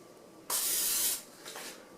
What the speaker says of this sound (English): I'll put it in a little bowl with some spray oil.